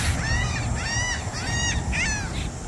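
Several gull-like calls ring out in a rhythmic series of four or five harsh cries over a steady wind and surf background at a beach state park on Mustang Island, fairly near and clear.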